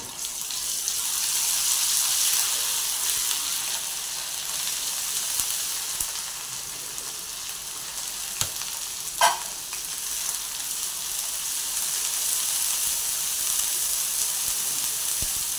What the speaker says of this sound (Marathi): हे चांगलं वाटण आपण परतून घेऊ.